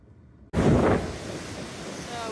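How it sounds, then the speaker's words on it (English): Strong wind on the coast buffeting the microphone, a sudden loud roaring gust that then settles into a steady rushing blow. "It's very windy."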